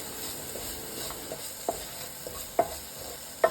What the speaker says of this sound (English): Saute this for 30 seconds to a minute on low flame